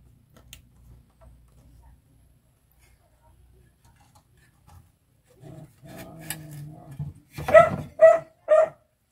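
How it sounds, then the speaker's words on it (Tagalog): A bulldog lets out three loud, sharp barks in quick succession at the end, after near silence and some low murmuring talk in a repair workshop. "bulldog kong aso"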